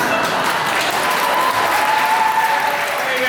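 A comedy club audience claps in a continuous, even burst of applause, loud and close, filling the whole short stretch with no laughter or voices standing out.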